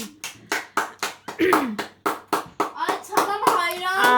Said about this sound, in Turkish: Elif Elif'leri güzelce alkışlar mısın abla?